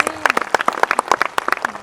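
A congregation claps at a women's church conference sermon, sharp individual claps in an uneven, lively rhythm close by, with a faint tone lingering underneath.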